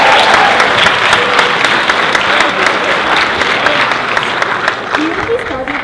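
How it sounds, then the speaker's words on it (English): Warm audience applause for the MCs at a school Unity in Diversity event, a loud, dense, sustained wash of many clapping hands with some crowd noise, holding steady throughout before easing slightly at the end. "let's give a nice warm applause for our MCs"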